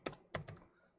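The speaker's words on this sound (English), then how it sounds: "I'm going to click in cell C1, and I am going to type fall-RR" Typing on a computer keyboard while entering text into a spreadsheet cell, a few soft, close key clicks in a quick cluster with no talk.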